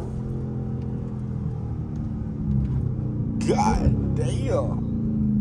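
A Dodge Scat Pack with the 392 engine drones with a low, steady rumble while driving, swelling slightly partway through as a man exclaims over it.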